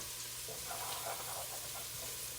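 Ingredients for black-eyed pea soup saute in an enamel cast iron pot, a soft, steady sizzle with light stirring scrapes, faint and close.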